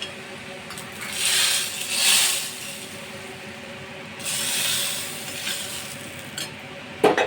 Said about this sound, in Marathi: त्यानंतर जो आहे हा तडका जो आहे तो डाळीला देऊन घेणार आहे